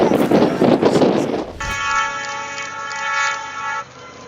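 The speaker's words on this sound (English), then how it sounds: "Admire the speed of this train on the snowy roads of Canada." A loud rushing rumble of a train passing along snowy tracks in Canada gives way to a long, sustained train horn blast that cuts off abruptly.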